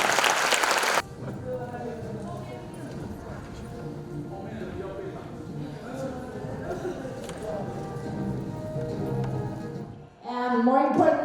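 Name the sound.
audience applause for student volunteers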